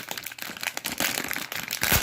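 Tape peeled from the paper wrapping of a package, about 51 years old, as it is opened: continuous close crinkling and tearing rustle with a few louder rips, no voices.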